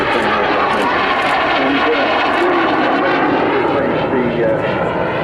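A Hunting Percival jet aircraft flies at a seaside air show, its loud, steady engine roar filling the air while an announcer talks over it.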